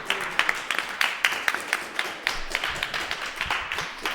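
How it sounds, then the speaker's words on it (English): Applause and clapping fill the room at a karting meet's finals after the overall champion is decided, a dense, steady patter of many hands lasting throughout. "There's claps all around here, and deservingly so."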